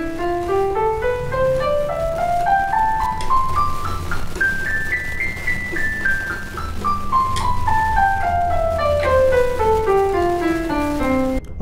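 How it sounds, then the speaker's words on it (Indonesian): An electronic keyboard plays a smooth run of notes climbing through the third to fifth octaves and then descending again, each note clear and evenly spaced, with no voices over it. "Ya, jadi kalau dimainkan dari oktav ketiga, keempat, kelima, itu bunyinya seperti ini"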